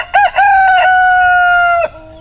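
A gosling lets out one low-pitched goose call, a close, loud, drawn-out honking tone lasting under two seconds with a brief stutter at its start, heard alone.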